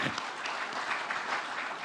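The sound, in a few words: audience applause at political event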